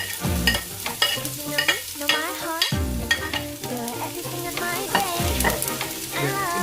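Garlic and onion fry in a pan for a cabbage and potato vegetable dish, with a steady close sizzle broken by repeated scraping clatters of a stirring utensil. No one talks.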